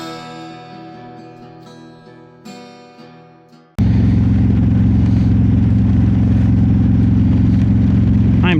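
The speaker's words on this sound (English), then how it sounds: "on this beautiful day to run uptown on the bike" A motorcycle starts up abruptly after a few seconds of fading tonal music, then holds a loud, steady engine drone that runs on to the end. It is on a cold-day ride heading uptown.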